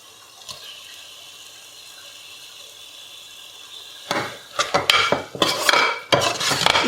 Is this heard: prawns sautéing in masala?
yes